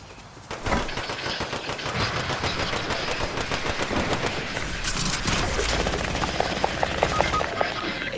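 Dense Fortnite gunfire crackles in rapid volleys, mixed with a steady rotor-like drone and a run of sharp, clipped shots near the end. The firing stays fairly distant and continuous throughout.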